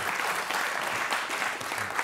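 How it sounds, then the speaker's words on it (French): A lecture hall audience applauds a newly honored Academy of Sciences member before a medical imaging talk: dense, even clapping from many hands, continuous and fairly close, with no voices over it. "Je vous propose de l'applaudir."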